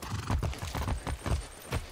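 A horse gallops in the video game Far Cry 6, rapid rhythmic hoofbeats pounding close and loud in a steady clip-clop pattern, heard alone without talk.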